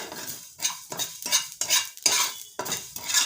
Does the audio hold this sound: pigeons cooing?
no